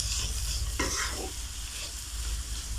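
Vegetables for fried rice stir-fry in a hot pan, a steady close sizzle with a brief scraping stir partway through, no voices.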